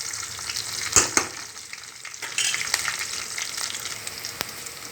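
Curry leaves crackle and sizzle in hot oil, a bright steady frying hiss broken by a few sharp pops and spatters.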